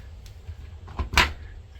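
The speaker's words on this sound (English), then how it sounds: "Now I can go ahead and open this door with that door unlock even with water inside of it." The door of an Electrolux EFLS617STT front-loading washing machine unlocks and opens in diagnostic mode with water still inside, giving a quiet click and then a brief, louder clunk and thump at close range.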